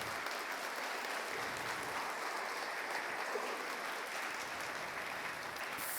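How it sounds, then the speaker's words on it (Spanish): A church congregation gives steady, even applause during a Spanish-language sermon, heard from a distance as soft, continuous clapping lasting six seconds with no voices over it. "¿Alguien puede darle un aplauso al Señor por eso?"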